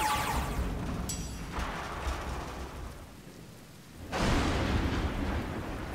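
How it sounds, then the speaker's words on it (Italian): Rumbling thunder in the video game Aground, deep booming rolls over a steady rain-like hiss, with a renewed loud swell of thunder toward the end. "Questi tuoni mi stanno spaccando le orecchie"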